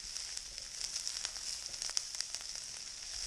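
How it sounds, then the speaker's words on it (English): Chopped onions and jalapenos sizzle steadily in a pan over moderate heat, a faint, even frying hiss with small crackles and pops throughout. "you can see that I've got the onions and the jalapenos going here"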